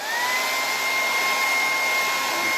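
A hair dryer dries stencil paint during a craft demonstration. It is a steady, close, high-pitched blowing whine that runs without a break, and no voices are heard.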